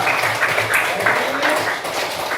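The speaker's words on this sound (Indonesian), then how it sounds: "Tepuk tangan buat mereka bertiga." Classroom applause for three students in a school lesson, a steady wash of clapping from a group of pupils, fairly loud and continuous with faint voices mixed underneath.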